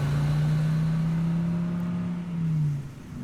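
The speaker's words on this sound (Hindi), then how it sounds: "मैंने गाड़ी स्टार्ट की और तेज रफ्तार में वहां से निकल गया" Car engine sound effect for a night horror story, a loud steady motor drone that swells and then fades as the car speeds off, heard alone without speech.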